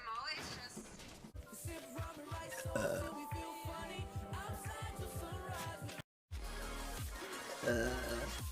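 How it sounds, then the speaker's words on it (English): Jessica burps over a background of music and talk, a drawn-out rumbling belch near the microphone, with a brief dropout before the clip continues. "There you go. The burp."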